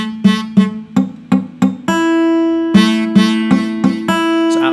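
Beginner plucking single notes on an acoustic guitar with a muddy tone, a run of repeated plucks followed by a longer ringing note and more uneven plucks, close and clear with no voice.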